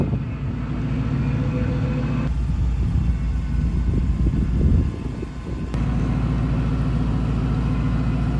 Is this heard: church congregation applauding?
no